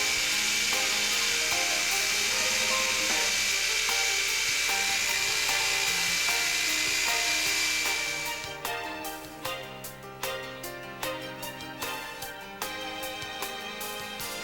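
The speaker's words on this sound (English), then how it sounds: "set the saw at the appropriate angle and cut out the base plate" A saw, angled, cuts a wooden base plate with a loud, steady whine for about eight seconds. The cut then breaks into a series of rhythmic strokes that fade slightly toward the end, with no talking.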